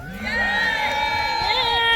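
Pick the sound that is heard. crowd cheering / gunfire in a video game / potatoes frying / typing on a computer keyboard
crowd cheering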